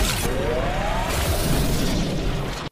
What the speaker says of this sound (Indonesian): Sampai akhirnya Yuli pun bangkit dan langsung menembak Finnegan menggunakan senjata plasma.